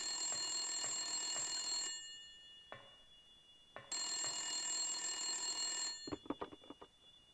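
A telephone in the Silent Hill video game rings in two long bell bursts with a short quiet gap between, then a series of brief clicks follows, fairly faint and without voices.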